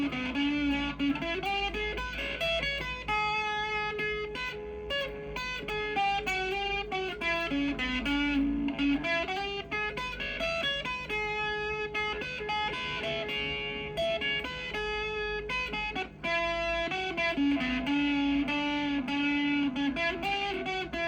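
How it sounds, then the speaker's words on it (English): Sustained electric guitar chords and riffs run through a distortion pedal, played with the bridge pickup selected on an SG-style guitar; a thick, continuous, loud tone fills the whole passage with no talking. "final selection for the pedal is the electric distortion"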